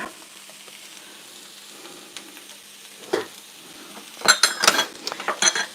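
Shredded cabbage sautés in butter in a pan for Irish colcannon. A quiet, low sizzle runs for several seconds, then sharper clinks and scraping stirs of a utensil against the pan rise near the end.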